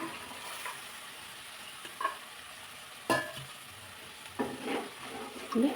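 Cut vegetables fry in hot oil in a pan for a hotel-style saagu, sizzling steadily while a utensil stirs and scrapes them in occasional short bursts; no one talks.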